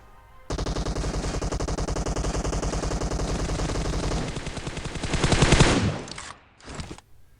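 Automatic gunfire in the mobile battle royale game PUBG Mobile, a rapid unbroken burst of shots lasting several seconds, followed by a louder swell and a couple of short final bursts, close and without talk.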